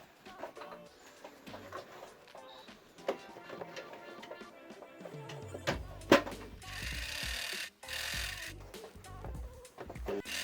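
A sewing machine stitches a seam on a homemade fabric face mask, a busy mechanical whir that runs in bursts and grows louder toward the end, heard close with scattered clicks and handling noise.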